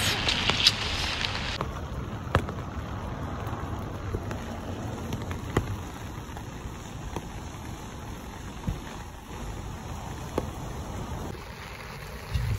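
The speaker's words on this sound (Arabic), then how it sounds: "بس كاين الشتا بزاف" Heavy rain falls steadily throughout, a dense hiss with scattered louder drops and knocks. A faint high tone sits above it and no one speaks.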